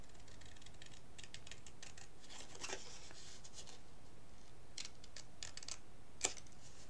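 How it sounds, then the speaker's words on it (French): Scissors snipping through paper to cut a small triangle for a handmade Christmas card, with a series of quiet, close, crisp clicks and one sharper snap near the end. "On va couper notre petit triangle."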